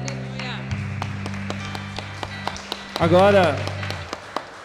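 Steady rhythmic hand clapping from a church congregation at a live worship service, keeping time under singing and a talking voice, with a brief louder swell partway through.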